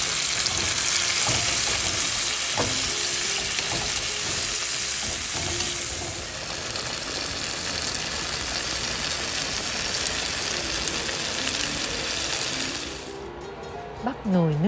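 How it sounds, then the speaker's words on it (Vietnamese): Tomatoes and crab roe stir-fry in an oiled pan with fried shallots, a steady close sizzle with occasional utensil scrapes and clicks, quieting slightly midway and ending with a few soft knocks. "Mình cho luôn phần gạch cua vào xào chung với cà chua nhé."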